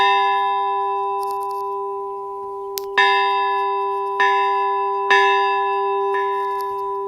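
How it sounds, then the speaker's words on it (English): Church bells ring out in several separate strikes, each leaving a long, sustained metallic hum that slowly decays between hits. "help us with the bells ringing"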